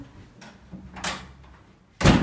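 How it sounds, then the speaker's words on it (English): Door being closed in a house under renovation, a few light creaks and bumps of handling followed by a firmer thud as it shuts, close and without talk. "I'll just close the door."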